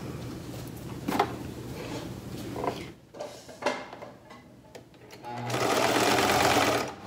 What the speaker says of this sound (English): Now I'm gonna sew the edge of the fabric just to make it sturdier and flatter